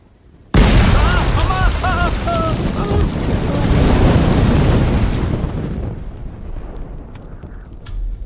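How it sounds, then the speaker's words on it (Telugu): A loud, sudden bomb blast in a Telugu film scene, a sharp onset followed by a long rumbling roar and debris noise that fades over several seconds, with a faint later pop. "ఇప్పుడు ఇక్కడ బాంబు పేలింది కదా"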